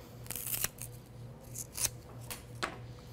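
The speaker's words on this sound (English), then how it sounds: "It's got a very thick stem, and it's going to take me a moment to trim it." Scissors cutting through the thick stem of a tropical flower for an arrangement, several close crisp snips in a short burst with quiet pauses between.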